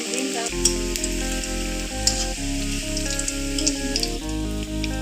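Thekua, the Chhath Puja sweet dough, frying in hot oil, giving a steady close sizzle and crackle that runs throughout beneath continuous music.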